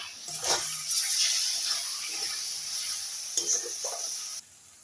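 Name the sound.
stirring spices with salt in a frying pan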